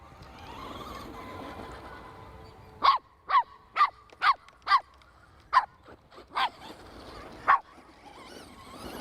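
A small poodle barks in a quick series of about nine sharp, high-pitched yaps, fairly close, over a quiet background.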